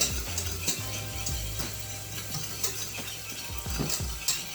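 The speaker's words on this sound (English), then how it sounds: "we get a quick little stir." A spoon or whisk stirs Alfredo sauce with whipping cream in a cooking pot, making soft repeated scraping and light tapping clicks over a gentle simmering sizzle.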